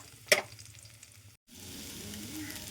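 A mixture tipped into hot coconut oil tempered with mustard seeds, chilies, coriander and curry leaves gives a sharp brief burst, then a quiet, steady sizzle resumes after a short gap.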